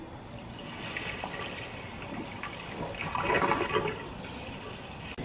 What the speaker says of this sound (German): jetzt werde ich mal Benzin einfüllen